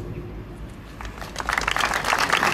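Applause at a ceremonial town council session marking Wieruszów's 650th anniversary, growing from a quiet hall murmur into dense, steady clapping from a crowd in the second half.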